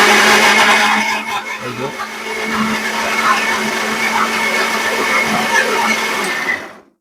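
A kitchen blender runs loud and steady at close range, its motor whirring continuously for several seconds before stopping. A voice speaks briefly over the noise early on.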